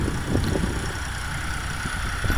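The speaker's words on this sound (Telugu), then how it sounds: "ఇక్కడ జేసీబీ వర్క్ అయితే చేస్తుంది చూడండి సైడు" A JCB excavator engine idles and rumbles with a low, continuous drone at a construction site, with faint clanks over a constant hum.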